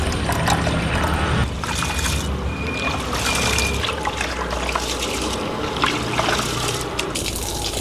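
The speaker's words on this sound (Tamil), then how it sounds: "இப்போ இதை நாங்கள் நல்லா கழுவி எடுப்போம்." Red raw rice being washed by hand in a bowl of water for a Jaffna-style leaf porridge, with steady splashing, trickling and sloshing close by and no talking.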